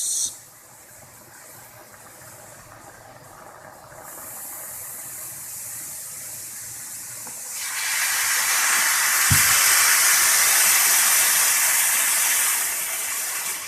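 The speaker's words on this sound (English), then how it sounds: "so now that is boiling, vinegar and baking soda." Vinegar and baking soda fizzing and bubbling in a stainless steel pan, a hissing rush that quiets briefly, then swells louder and brighter and holds steady with a single clink partway through.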